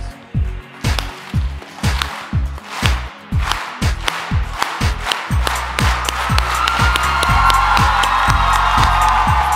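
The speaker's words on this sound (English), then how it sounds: "And we'll begin with our slow clap, please." A crowd at Wendell Phillips Academy's celebration of its football state championship in Chicago starts a slow clap: loud, evenly spaced claps that gradually quicken into rapid clapping and cheering.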